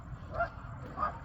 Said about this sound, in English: That's one of those itty bitty dogs.